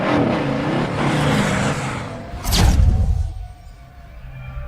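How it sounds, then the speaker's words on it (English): A car engine catches and runs, loud and close, with a brief rising surge partway through before settling into a steady idle. "Ron tries the car again. This time, it starts."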